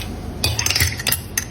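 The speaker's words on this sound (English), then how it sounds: "all we need to do is just mix that up a bit and put it to the side" Nuts, cinnamon and sugar being mixed in a bowl for a muffin topping, heard as a few close, quick clinks and scrapes of a utensil against the bowl in short bursts.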